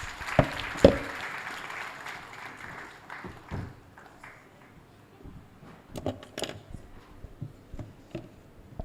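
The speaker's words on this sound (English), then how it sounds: "A round of applause for Prof. Linington, please." Scattered audience clapping at an engineering faculty address, a denser burst at first that thins into sparse, uneven claps, with some murmuring from the room.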